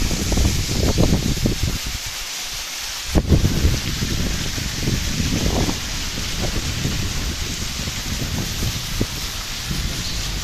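Heavy monsoon rain in Kodagu, India falls in a steady wash, with gusty wind buffeting the microphone and low rumbles throughout.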